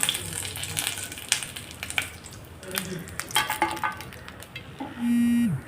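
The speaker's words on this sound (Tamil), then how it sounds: "கொஞ்சம் ஃப்ரை பண்ணி எடுத்துக்கலாங்க" Cooking oil sizzles steadily in a pan during preparation of Kerala-style chicken keema dum biryani, with light utensil clinks and stirring knocks over the frying, then a short electronic beep near the end.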